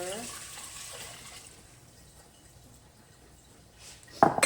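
White vinegar being poured into a measuring cup: a brief liquid trickle at the start that fades to near silence, then a sharp knock near the end.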